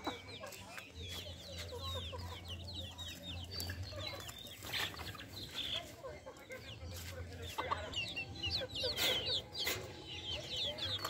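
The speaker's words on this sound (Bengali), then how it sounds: "হালাস কেন রে মুরগি" A hen clucks steadily at moderate distance in a quiet household setting, with soft, repeated throaty calls and a low background hum; other bird chirps are faintly audible.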